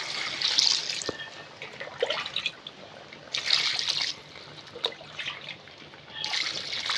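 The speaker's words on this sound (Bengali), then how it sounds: "এখন আমি উষ্ণ গরম জল দিয়ে দেব।" Warm water poured into a pot of well-browned mutton curry, a splashing trickle coming in several bursts with pauses between, fairly close and moderately loud, with no talking.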